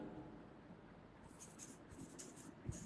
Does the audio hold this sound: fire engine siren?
no